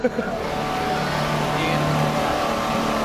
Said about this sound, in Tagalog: May sasakyan dumaan.